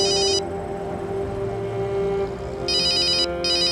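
A telephone rings in short electronic bursts, one brief ring at the start and two more near the end, over a steady low hum with no talking.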